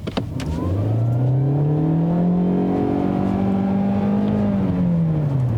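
A 2021 Hyundai Elantra with a CVT accelerating from inside the cabin, its engine note rising smoothly then holding a steady drone at nearly constant pitch, loud and continuous without distinct gear shifts.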